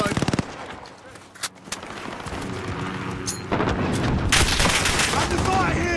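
Rapid automatic gunfire bursts in Call of Duty Modern Warfare 2019 multiplayer, with sharp shots crackling over a dense, chaotic battlefield wash that thickens into continuous heavy firing.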